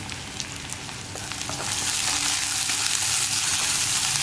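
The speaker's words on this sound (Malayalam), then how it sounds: "ഇനി ഉള്ളിയും വെളുത്തുള്ളിയും നന്നായിട്ട് കുക്കായി വരുന്നത് വരെ നമ്മളൊന്ന് ഇളക്കി കൊടുക്കുക" Onion, garlic and curry leaves with a little salt frying in a pan for carrot mezhukkupuratti, a steady hiss of sizzling that grows louder partway through, with light scraping from stirring.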